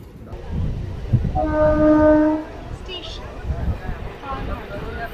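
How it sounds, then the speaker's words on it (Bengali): A train's horn sounds as it pulls into Kanchrapara station, a brief tonal blast over rumbling carriage noise, with people talking nearby. "আমাদের ট্রেনটা কাঁচরাপাড়া স্টেশন চলে আসলো"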